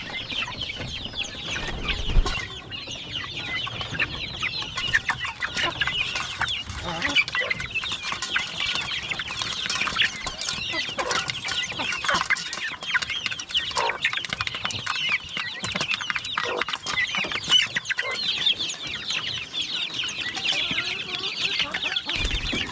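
Farm chickens and turkeys keep up a dense, continuous chorus of clucking and squawking for a long stretch, close and fairly loud, with no one talking.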